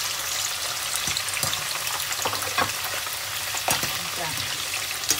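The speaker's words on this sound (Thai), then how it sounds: "เราจะทอดมันกรอบๆจ้ะ" Meatballs deep-frying in hot oil, a steady bubbling sizzle with occasional crackles and light stirring clinks, close and continuous with no talk.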